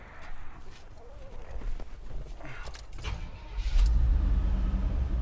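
A fuel-injected 1987 Chevy square body pickup engine cranks and fires, a few faint clicks and whirs giving way to a sudden loud catch and a steady, close idle rumble.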